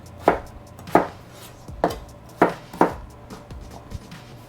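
Potatoes diced with a knife on a cutting board, six or seven sharp, evenly spaced chops close up with quiet gaps between them.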